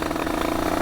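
A Derbi motorcycle engine runs steadily, a loud, close buzzing drone with a rough, even texture and no clear revving across the short moment.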